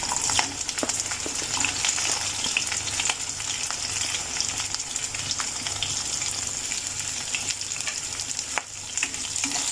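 Onions and cashews frying in a pan for a raw banana kofta curry, a steady close sizzle throughout with occasional light stirring clicks and no talk.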